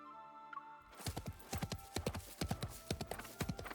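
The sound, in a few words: horse hoofbeats clip-clopping in mist, from a video game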